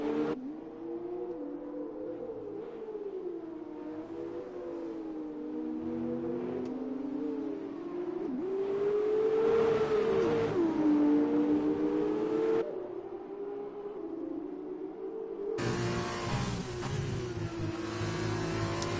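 A GP2 race car engine revs and shifts through gears in a racing game at the Hungary circuit, pitch climbing and falling in a continuous, fairly loud whine, with brief bursts of broadband tyre or track noise.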